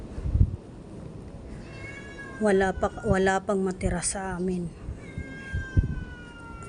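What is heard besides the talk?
pet cat meowing outside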